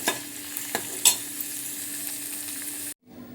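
Buttermilk chillies fry in a pan, a continuous bright sizzle punctuated by a few quick stirring knocks, then cutting off abruptly near the end.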